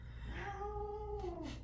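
A cat lets out a single drawn-out, wavering caterwaul, close and moderately loud, followed by a couple of brief scuffling bursts against a low background hum.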